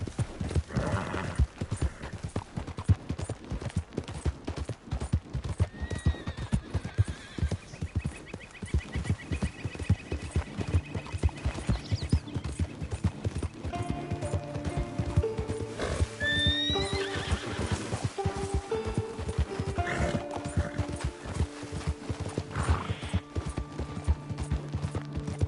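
Horse in Red Dead Redemption 2 galloping, with rapid rhythmic hoofbeats throughout and a loud neigh partway through, with no voices.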